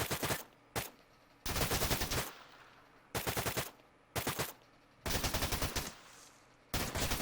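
Bursts of automatic gunfire from an ARMA 3 firefight, several loud rapid volleys of a second or so each separated by short pauses, close and sharp over a faint background.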